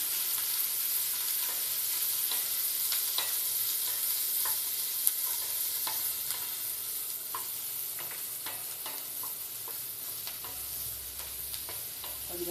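Sliced onions sautéing in a pan for aloo kachori filling, a steady close sizzle with scattered soft stirring scrapes throughout, no voices.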